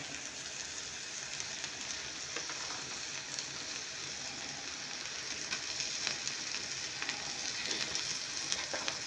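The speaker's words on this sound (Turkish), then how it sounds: "Biraz kızarsınlar şimdi." Egg-soaked bread with cheese and green onion frying in a pan, a continuous close sizzle and crackle of hot oil steady throughout.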